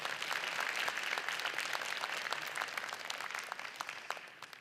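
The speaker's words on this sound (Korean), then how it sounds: "수고하신 박완석 지사에게 큰 박수 부탁드리겠습니다" Forum audience applause for the Gyeongnam provincial governor after his keynote, a dense, even crowd clapping that holds steady and then tapers slightly toward the end, with no talk over it.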